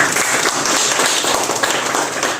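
A roomful of people at a meeting of a sanitation workers' committee bursts into loud, dense applause, a steady rattle of clapping that holds for a couple of seconds.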